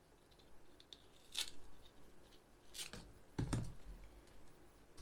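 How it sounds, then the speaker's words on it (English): Snake plant leaf being cut with scissors: a few faint, separate snips and crunches spread over several seconds, close and quiet in an otherwise still room. "Now let's get a leaf and cut it."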